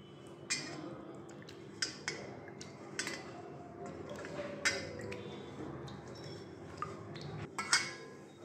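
A spoonful of slaked lime stirred into water in a kitchen vessel while making raw mango murabba, giving a series of soft, irregular clinks and taps of spoon against the container over a low background hum.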